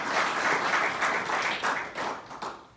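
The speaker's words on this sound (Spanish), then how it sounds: "Dale un aplauso de gloria a Dios." A church congregation claps in steady applause, a dense wash of many hands filling the room for a few seconds before tapering off, with no voices over it.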